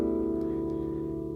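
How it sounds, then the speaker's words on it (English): Four strings of a classical guitar plucked together free stroke, thumb on the sixth string, for a lesson exercise on El Noi de la Mare; one sustained chord rings steadily and close, alone, with no attack visible at the start. "I'm going to play all four of those strings free stroke at the same time."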